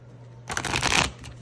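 A quick riffle of playing cards being shuffled, a dense fluttering burst about half a second long, close up, over a low steady hum.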